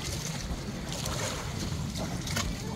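Fishing boat out on the open sea while tuna fishing, with a steady rush of wind and water noise filling the whole clip, close and continuous with no talk.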